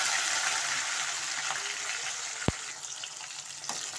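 About twenty small onions and a chopped tomato sizzle steadily in a hot pan for garlic kuzhambu, a continuous close frying hiss with a sharp knock or clink partway through.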